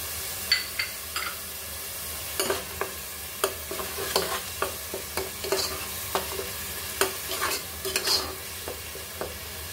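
Ginger and garlic paste frying in a pan, a soft steady sizzle punctuated by regular sharp clinks of a spatula stirring against the pan, close and clear, no voices.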